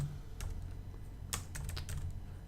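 Someone types slowly on a computer keyboard, a few close, sparse key clicks in small clusters over a steady low hum.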